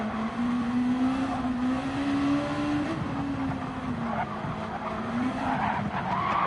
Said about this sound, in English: rear tyre on the gravel there